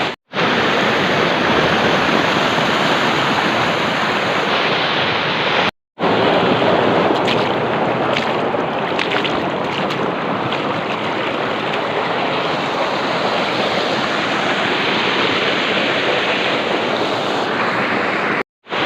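A loud, unbroken roar of a flooded river rushing fills the clip and stays powerful throughout, with two brief moments of silence.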